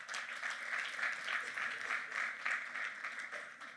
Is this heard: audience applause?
yes